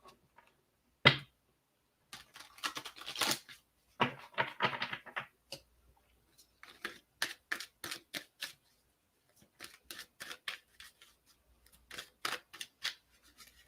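Tarot cards are shuffled close up in a quiet room, giving bursts of crisp riffling and soft slaps in irregular clusters with short silences between them.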